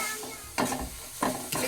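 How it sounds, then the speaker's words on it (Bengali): Spice paste sautéed and stirred in a pan in a home kitchen, with three bursts of scraping and sizzling as the spoon moves, spaced about half a second apart over a low, steady hiss. "এদিকে আমি মশলাটা কষাচ্ছি"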